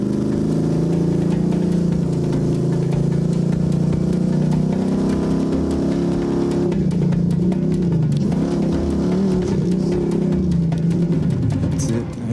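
A Jeep rock crawler engine at King of the Hammers runs loud and close, idling roughly then revving, with the tone shifting partway through as it picks up under a steady rumble; voices are heard.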